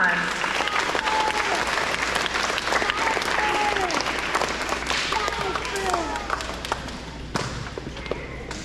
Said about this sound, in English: Let's all give them a round of applause.